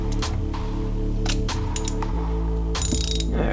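A ratchet wrench clicks in quick bursts of pawl clatter while bolts are tightened on an engine. The metallic ticks sound close over a steady low mechanical hum, with some clinking of tools near the end.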